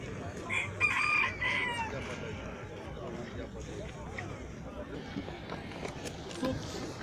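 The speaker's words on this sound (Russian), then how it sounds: "Курочка и петух." A rooster crows amid clucking hens and barnyard chatter, with people talking and general bustle in the background throughout, at a bird market fair in Kropotkin, Krasnodar Krai, Russia.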